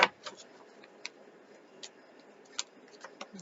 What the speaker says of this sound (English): Let me shuffle this a little bit better.